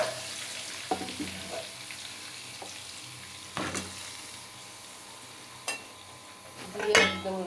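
Garlic and dry chili paste fry in a pan for kala bhuna, giving a steady close sizzle broken by a few sharp clinks and scrapes of a utensil against the pan.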